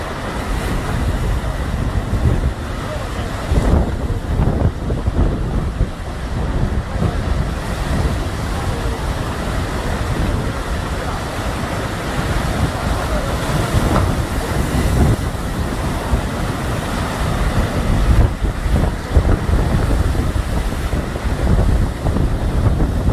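Heavy ocean waves and strong wind roar continuously around big ships on rough seas, a loud dense wash with gusty buffeting and no clear voices.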